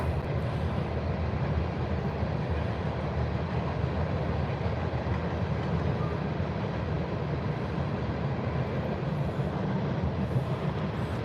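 A train rolls past close by outdoors, a steady loud broadband rumble and rattle of rail cars that holds without a break, behind the engines of a multi-locomotive freight.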